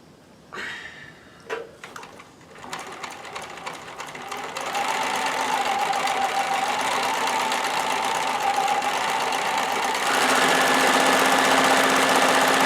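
A White Euroflair 8910 sewing machine by Husqvarna Viking stitching a cross hem pattern: a few soft clicks, then a steady close mechanical whirring hum that grows louder and continues to the end, no talk.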